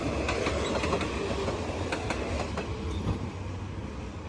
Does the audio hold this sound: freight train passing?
yes